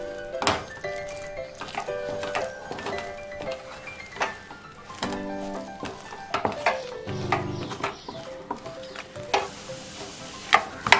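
Rice flour dough with a spoonful of oil is stirred in a pan, giving a soft sizzle under repeated scraping strokes and clinks of a spoon against the metal, close and moderately quiet.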